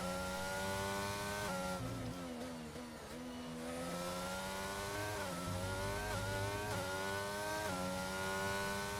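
A race car engine screams at full throttle in a racing game on the Spain circuit, high harmonic whine rising through gears with quick drops at shifts, steady and loud throughout.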